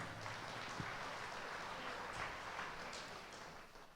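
A retreat-centre congregation claps hands in praise, a faint, continuous spread of crowd applause that runs evenly for about four seconds.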